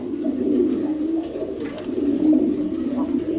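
Fancy pigeons, German velvet shield birds among them, coo in soft, low, repeated rolling phrases close to the microphone, the calls overlapping in a steady murmur inside a pigeon loft.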